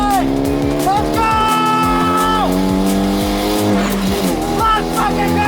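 A Hyundai Genesis Coupe with a freshly built engine laps a race track at speed, its engine roaring loud and close through rapid upshifts and downshifts, with tire squeal and someone talking over it.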